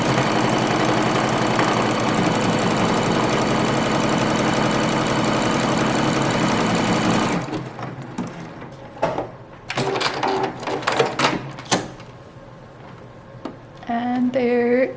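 A sewing machine stitches a buttonhole in fabric with a loud, rapid, steady mechanical chatter for several seconds, then stops, leaving scattered clicks and handling sounds.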